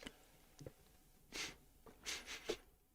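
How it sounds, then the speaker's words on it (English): A person sniffles quietly in an otherwise silent room, three or four short nasal sniffs spaced irregularly, faint and close to the microphone. "Nothing but silence and you sniffling away"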